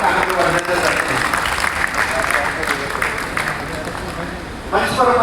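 Audience at a large cow-protection gathering in Jaipur applauding to welcome a revered spiritual guest, loud sustained clapping throughout, a brief dip near the end before it swells again.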